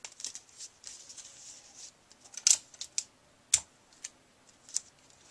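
Quiet, crisp scissor snips trimming ribbon on a card, a few sharp cuts spaced irregularly, with light rustling and handling noises in between.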